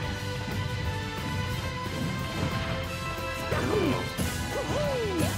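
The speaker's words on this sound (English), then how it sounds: "Was that a perfect shield? Twice?" Sharp crashing hits and shield impacts from a Super Smash Bros match, several quick clashes over steady game music and effects, with no commentary over them.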